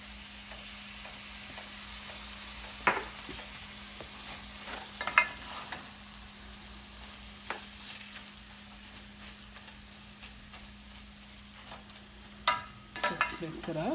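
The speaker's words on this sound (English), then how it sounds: "Just mix it up." Shrimp cutlet mixture with lime juice stirred in a pan over low heat, a soft steady sizzle under scattered scraping and clinking of the spoon, with a few louder knocks near the end.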